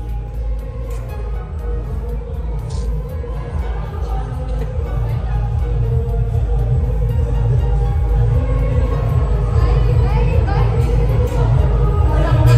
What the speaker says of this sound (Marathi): आम्ही ट्रेनमध्ये आता बसलोय, म्हणजे आलो ट्रेनमध्ये